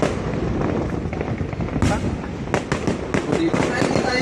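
New Year fireworks in Saba, 2017: a barrage of loud, sharp bangs and crackling bursts, close by, with several sudden cracks in quick succession toward the end, while people talk nearby.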